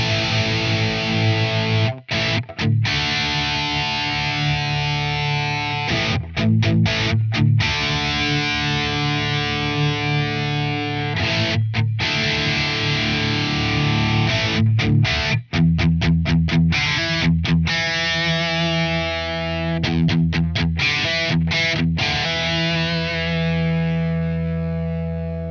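Heavily distorted electric guitar played through a Celestion speaker cabinet impulse response plays chords and riffs with short stops between phrases, thick and saturated, with a roomy, slightly reverberant tone.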